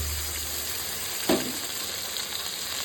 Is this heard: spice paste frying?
yes